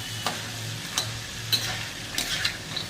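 Chickpea curry simmering on low gas and stirred in a pot, with a low steady bubbling hum beneath and a handful of spaced spoon scrapes and light clinks, close and moderately loud.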